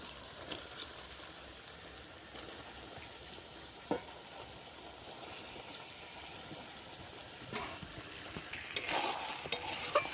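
Chicken is added to potatoes and spices already frying in a pan, making a low, steady sizzle with soft stirring scrapes and a few clinks toward the end, fairly quiet and with no talking.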